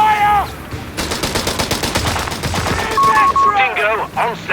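Rapid machine gun fire in the World War II strategy game Company of Heroes 3, a dense rattling burst lasting several seconds amid battlefield noise, with game voice lines and radio chatter before and after.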